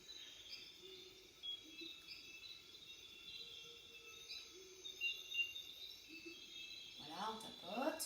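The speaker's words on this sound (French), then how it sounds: "Écoutez le petit chant des oiseaux que je vous ai mis à côté" A faint background recording of birdsong: small birds chirp and twitter steadily over a thin insect-like trill, and a quiet voice comes in near the end.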